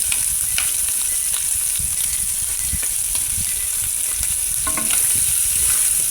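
Pork ribs and mixed vegetables sizzle and fry in a pan while being stirred, a steady loud crackling hiss with scraping utensil strokes scattered throughout and no talk.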